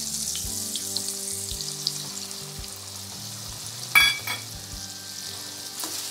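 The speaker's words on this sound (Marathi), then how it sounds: "रवा हा छान मंद गॅसवर खरपूस भाजून घ्यायचा" Semolina roasting in ghee with banana slices over a low gas flame gives a soft, steady sizzle, with a brief louder stir or scrape near the middle. Tonal background music plays throughout.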